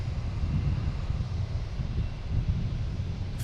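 Steady low jet engine rumble from a Condor airliner lining up on a runway at Boston Logan airport, heard from a distance as a constant drone with light wind noise and no voices.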